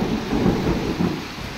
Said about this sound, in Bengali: বৃষ্টি ভালো জোরে হচ্ছে